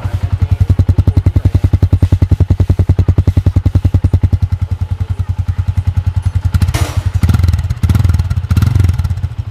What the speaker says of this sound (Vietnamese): Nhẹ thôi, nghe tiếng bộ nha.